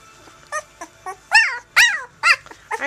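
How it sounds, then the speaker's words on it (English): A dog's short, high-pitched yips and whiny barks come in quick bursts, several of them close by, with no talking. "Are you barking at me?"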